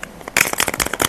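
Rustling and crinkling of makeup packaging being unboxed, close and crisp, in a quick run of irregular papery crackles with no talking.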